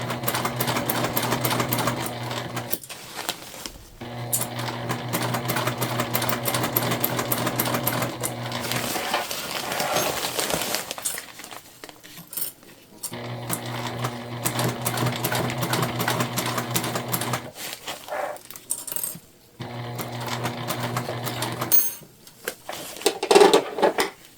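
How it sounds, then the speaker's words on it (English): A sewing machine stitching a fabric car trash bag made from dollar-store materials, running in several long steady rattling bursts with brief pauses between them. "we're sewing from the interior of our bag"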